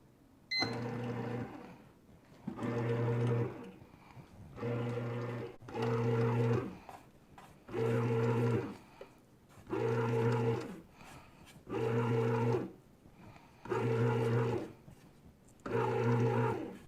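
A bread machine mixing dough on its white bread setting for a 2-pound loaf with medium crust gives off repeated motor whirring bursts, each about a second long, separated by short pauses in a steady rhythm, close and moderately loud.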